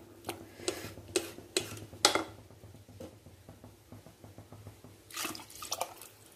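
A mix of water and coconut milk poured onto rice in a pressure cooker for vegetable rice, heard as a run of close, sharp splashes and drips followed by quieter trickling and a final burst of pouring.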